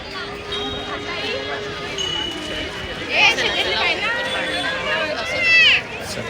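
Dense festival crowd of devotees at the Mahakal temple, a steady babble of many voices with shuffling footsteps and occasional louder shouts and calls rising near the middle and end.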